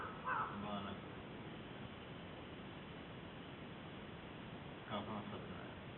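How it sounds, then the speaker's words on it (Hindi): Crows caw outdoors during a spiritual discourse in India, a couple of short cawing bursts near the start and again around the five-second mark over a steady hiss of background noise. "अब तो चिड़िया चहकने लगी"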